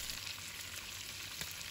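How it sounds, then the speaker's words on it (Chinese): Chicken pan-frying over medium heat until golden on both sides gives a steady, close, even sizzle that runs alone without any voices. "这是中火煎了5分钟的状态，像这样子，煎至两面都金黄色。"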